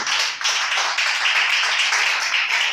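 A church congregation applauds with dense, continuous clapping that pulses gently for a few seconds, fairly close and loud.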